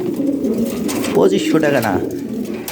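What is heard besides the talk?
pigeons cooing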